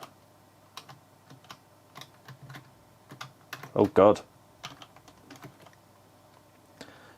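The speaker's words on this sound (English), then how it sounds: "So, keyboard control now." Computer keyboard keys tapped in scattered bursts while playing an Amiga 3D landscape flight game, close and fairly quiet with a louder cluster midway, and a voice exclaims briefly over it.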